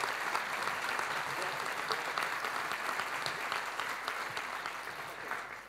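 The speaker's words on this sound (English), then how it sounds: "give a round of applause for Josh." Steady, dense audience applause at a JavaScript developer conference talk, a sustained wash of many hands clapping at moderate distance, slowly easing off toward the end with no voices.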